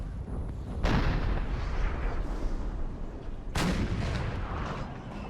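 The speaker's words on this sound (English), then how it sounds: "that artillery is proving to be highly accurate" Artillery fire booms across a Napoleon Total War battlefield between French and Russian armies, with two loud blasts about three seconds apart over a constant rumbling battle din.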